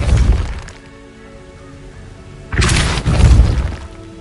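Confringo blasting spell from a Harry Potter video game: two loud, crackling explosive bursts, one at the start and a longer, heavier one later, separated by a quieter stretch.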